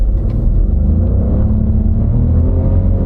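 A turbocharged three-cylinder car engine with variable compression pulls away from a stop, a loud, close, steady low rumble building under acceleration with no talk over it.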